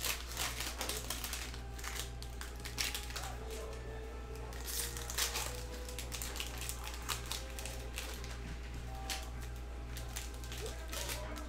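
A printer runs out a list indoors, a continuous rapid rattling, clacking print-head mechanism at a steady rhythm over a low electrical hum, fairly close and sustained throughout.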